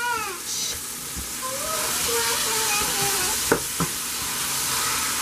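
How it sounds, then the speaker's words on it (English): Continuous sizzling from a pan fills the background, with a couple of brief clinks and some faint tonal sounds layered over it. "We're cooking. That's why if you hear the noise in the background."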